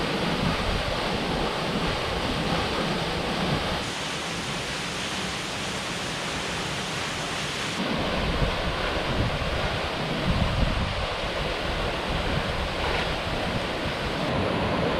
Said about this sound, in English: the creek in front of us here too, all flowing beautiful.